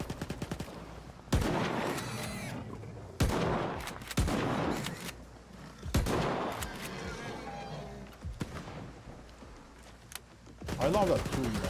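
Pistol shots and bursts of gunfire in the shooter game Stalker 2: Heart of Chornobyl, several sharp loud cracks spaced across the stretch, with someone talking between them.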